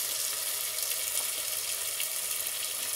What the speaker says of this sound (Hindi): आलू डाल के भून लेते हैं।